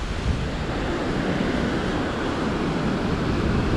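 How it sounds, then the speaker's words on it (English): Ocean waves crashing on the rocky shore at Pitcairn Island, a continuous loud roar of surf mixed with wind buffeting the microphone, steady throughout without any voices. "every other day there's been waves crashing over here"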